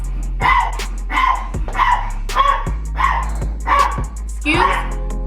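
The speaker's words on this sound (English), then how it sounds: "Every time I do a video, my dog manages to bark." A dog barks and yips in repeated bursts roughly every second, close and loud, sometimes with a whimpering edge and a steady low hum beneath.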